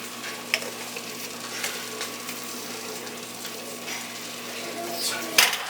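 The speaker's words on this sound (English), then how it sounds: "we're going to go ahead and give this a good stir" Soft scraping and clinking of a utensil stirring mashed potatoes with butter and evaporated milk in a pot, quiet intermittent scrapes over a faint steady hum, with a sharper knock near the end.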